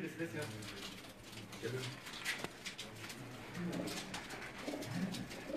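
Domestic pigeons, young birds of a flock, cooing softly amid a busy mix of background noise, with people talking nearby.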